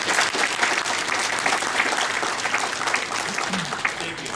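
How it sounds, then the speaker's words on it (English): An audience at an IEEE frequency control conference plenary session applauds with steady, dense clapping that fills the room at an even level throughout, with no speech over it. "let's give them a round of applause"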